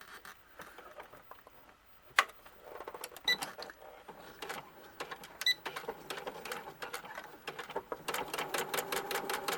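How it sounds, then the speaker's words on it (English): Sewing machine hemming the edge of a color-blocked coat, a quiet rapid mechanical patter that starts faintly and builds into a steady stitching run near the end. "So now we're just going to hem that edge."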